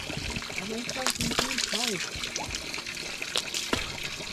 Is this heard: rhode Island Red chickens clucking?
no